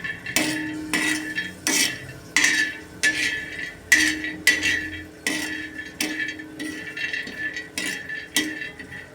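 Dal and coriander seeds roasting over low heat in a pan, heard mainly as sharp metallic scrapes and clinks of a spatula against the pan in an irregular rhythm, close and fairly loud with no talking.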